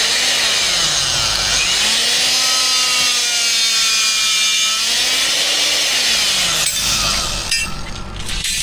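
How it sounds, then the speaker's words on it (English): Rebar being cut on a concrete slab job, a loud steady power-tool whine with a rising and falling pitch that runs continuously for most of the clip, then shifts and roughens near the end. "Cutting some rebar."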